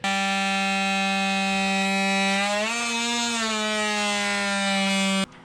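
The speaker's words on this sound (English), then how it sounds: "We can cut this out with the multi-tool" An oscillating multi-tool cuts an inspection hatch into a cracked boat bulkhead, giving a loud, close, steady buzzing drone whose pitch lifts briefly midway before cutting off just before the end.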